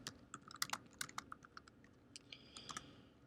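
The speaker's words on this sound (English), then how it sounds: "I type J." Keystrokes on a computer keyboard tap out in quick irregular bursts, crisp and close, with short pauses between clusters of presses and no voices.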